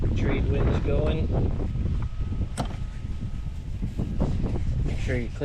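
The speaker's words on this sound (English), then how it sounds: "Typical Hawaii day. Trade winds going." Gusty Hawaiian trade wind buffeting the microphone outdoors while an outboard motor's water pump is serviced, a loud continuous low rumble with a few faint knocks and brief voice-like sounds beneath it.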